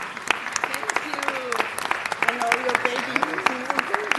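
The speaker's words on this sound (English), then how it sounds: "Let's recognize her and give Andrea a big round of applause." An audience at a city council meeting claps in a lively, dense burst that carries on for several seconds while voices talk and cheer over it.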